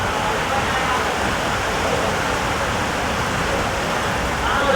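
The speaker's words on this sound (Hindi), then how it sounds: "यहाँ बारिश शुरू हो गई।" Steady rain at a hill shrine during a passenger-train journey in India, a dense even hiss of falling water that is loud and continuous throughout, with nothing else standing out.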